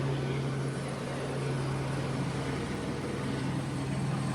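A police helicopter hovers overhead at a street scene with bike cops nearby, its steady droning rotor hum continuous and fairly loud beneath ambient outdoor noise.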